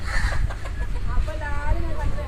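Native country chickens, young spotted hens and a rooster, cluck and murmur close by in short, uneven bursts, with a few rising calls and some background rustle.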